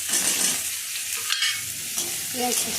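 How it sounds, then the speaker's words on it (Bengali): Chopped onion hits hot oil with chili, panch phoron and bay leaf, giving a loud, steady close sizzle broken by scraping stirs of a spatula in the pan. "এবার দিয়ে দেবো পেঁয়াজ কুচি"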